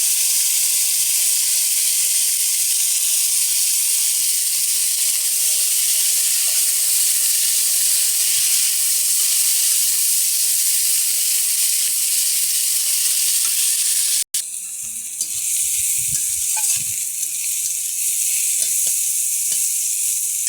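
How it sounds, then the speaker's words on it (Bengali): Chopped onion, tomato, green chili and black cumin fry in hot oil, a loud, dense, continuous sizzle with a sharp break partway through, after which the hiss carries on slightly changed. "তেলে আমি দিয়ে দিচ্ছি কালো জিরে, কুচানো পেঁয়াজগুলো দিয়ে দেবো।"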